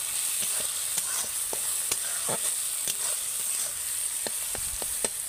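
Spice paste with a spoonful of Kashmiri chili powder frying in a pan for a fish curry, giving a constant close hiss of sizzling oil with soft, irregular scrapes of a spoon stirring through it.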